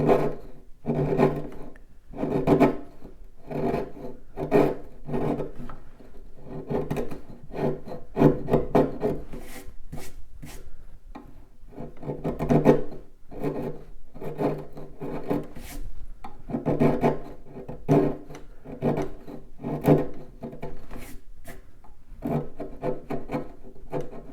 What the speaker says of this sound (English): you want to be cutting thin slices, thin shavings